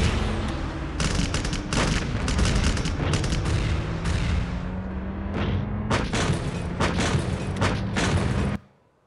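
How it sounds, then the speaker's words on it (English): An airstrike in a mobile strategy video game sets off rapid bursts of gunfire and booming blasts in quick irregular volleys, loud and close, before cutting abruptly to silence. "There's the airstrike here."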